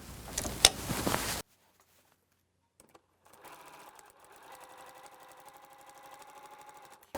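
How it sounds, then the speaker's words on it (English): A sewing machine stitches a seam through a paper-piecing pattern, a short loud burst first, then after a pause a steady rhythmic whir of the needle running for several seconds, close and alone. "And then you sew right through the second seam between 2 and 3."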